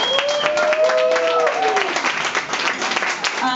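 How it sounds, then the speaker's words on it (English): An audience at a peer worker appreciation party breaks into steady, sustained applause, dense clapping that carries on throughout while a voice is heard over it. "Good round of applause."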